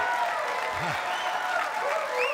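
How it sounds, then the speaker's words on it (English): Spectators at a WPBA Masters pool semifinal break into loud, sustained applause and cheering that fills the room, with faint voices over the clapping. "The crowd is fired up"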